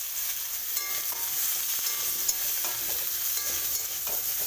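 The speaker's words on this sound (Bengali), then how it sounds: "রসুন কুচি দিয়ে ভাজা ভাজা করে নিলাম। একটু নেড়ে ফেলে দিয়ে দিলাম সবজি।" Potato, brinjal and kohlrabi pieces are stirred into chopped garlic frying in a pan, giving a continuous hissing sizzle broken by soft scraping and clinks of the spoon.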